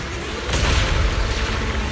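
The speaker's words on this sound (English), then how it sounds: "Move in during the gaps between explosions." Explosions in the video game Zenless Zone Zero give a dense, loud booming roar, with a heavier blast swelling partway through and staying constant to the end.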